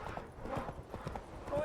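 Hooves of a horse gallop in The Witcher 3, a quick, fairly faint clip-clop rhythm mixed with brief voice sounds over the short stretch.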